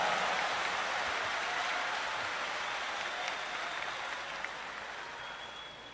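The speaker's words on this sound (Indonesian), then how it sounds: "Tepuk tangan yang meriah." Applause from a large audience at a Defend ID corporate event in Indonesia, a dense, even wash of clapping that sounds somewhat distant and gradually softens over the final seconds.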